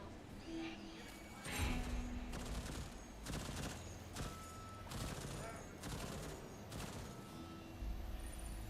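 In Deathloop, a turret fires repeated bursts of gunshots at mid distance, sharp cracks spaced through the whole stretch over a steady game ambience, with a voice speaking partway through.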